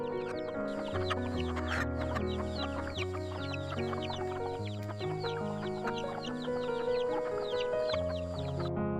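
Several chickens at a market cluck and chatter continuously at close range, a busy overlapping flock sound with occasional louder squawks.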